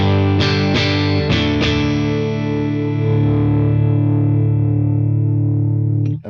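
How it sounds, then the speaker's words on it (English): Electric guitar through a Tone King Imperial preamp pedal with the mid-bite turned down, a few quick distorted strums followed by a long, scooped, bass-heavy chord ringing out loudly before being cut off. "turning down the mid-bite is going to give you a little bit more of a scooped sound, a bit more of a pronounced low end"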